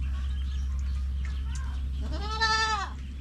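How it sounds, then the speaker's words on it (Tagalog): A black goat that recently gave birth lets out one clear, wavering bleat close by near the end, over a constant low background hum with faint sounds before it. "Kambing ni Sky, mga kambing siya"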